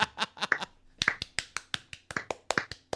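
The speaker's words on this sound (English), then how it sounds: "have that faint ass fucking cheap clap in the" A thin, cheap-sounding clap effect plays as a string of crisp, separate smacks, about fifteen sharp hits at an uneven quick pace over a few seconds, dry and close with no voices.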